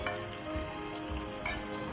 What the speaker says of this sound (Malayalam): ഉള്ളി പൊരിക്കുന്ന സമയത്ത് ഇടയ്ക്കിടയ്ക്ക് ആ ഉള്ളി ഇങ്ങനെ എണ്ണയിൽ നിന്ന് കോരി പൊന്തിച്ചിട്ട് എയറിൽ പിടിക്കുക.